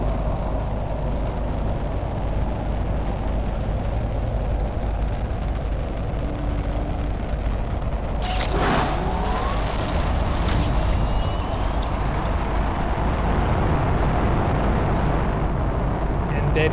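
Rockets launching to space in the video game Planet Crafter: a steady loud rumbling roar, with a sharp whooshing burst and rising tones partway through, under quiet talk.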